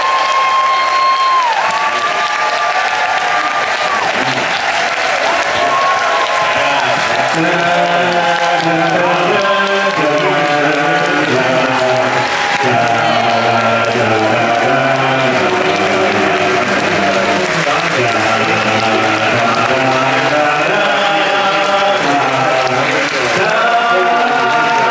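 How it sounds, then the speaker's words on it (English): A cruise ship audience applauds the crew team in a long, dense, loud wall of clapping with some cheering, sustained throughout as music plays underneath. "as you all give them the wildest applause you've given anyone so far this week"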